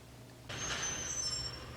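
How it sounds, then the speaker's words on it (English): A garbage truck passes nearby with a sudden loud hiss of air brakes releasing, followed by a sustained rumbling engine. "Oh, hello, garbage truck."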